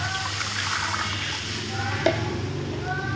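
Water going into a cooking pot over a hot stove for a Padang-style soup broth, a steady hiss and sizzle throughout with a brief splash or clink near the middle, close and alone without talk.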